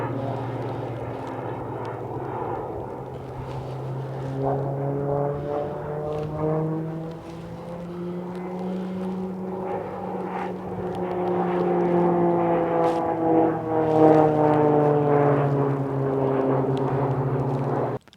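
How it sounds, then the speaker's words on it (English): A propeller airplane flies overhead near a dam, its droning engine tone sliding gradually in pitch as it passes, steady and moderately loud throughout with no talk. "oh, there's a plane"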